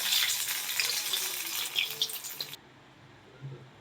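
Pakoras made from sago, fenugreek and potato hiss and sizzle as they drop into hot oil, a steady bright frying crackle that cuts off abruptly partway through, leaving faint low background sound.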